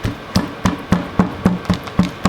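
A fist pounds raw steak on a surface to tenderize it, about nine dull, evenly spaced thumps in quick succession, close and fairly loud with no talking.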